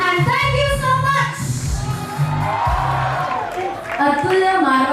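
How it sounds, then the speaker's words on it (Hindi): An audience at the Atulya Marwar Utsav 2023 festival cheers and whoops in a loud, sustained swell of crowd noise with some clapping, while music or voices ring over it. "जोरदार तालियां बजाएं दिलीप जी के लिए और गुलाब जी के लिए"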